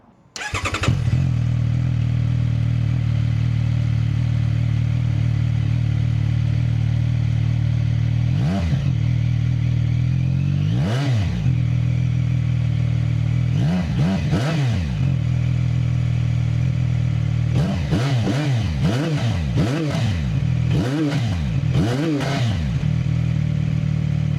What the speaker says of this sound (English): if you are interested in hearing about how this engine sounds, well, take a listen.